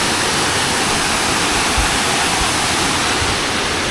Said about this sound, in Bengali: এ আমাদের সেই বিখ্যাত ঝর্ণা সারা রাতের বৃষ্টির পরে বুনরূপ ধারণ করেছে গর্জনটা ভালো লাগছে